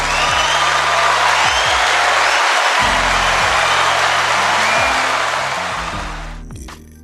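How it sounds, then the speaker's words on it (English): Audience applause with cheering and whoops, a dense steady wash of clapping that fades near the end, with a low musical bed underneath. "Round of applause."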